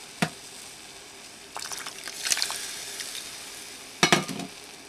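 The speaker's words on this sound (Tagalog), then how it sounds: "haluin po natin hanggang sa lumapot siya" A spoon stirs cornstarch dissolved in buko juice in a pan as it cooks and thickens, with soft sizzling under a few clinks and scraping strokes near the start, middle and end.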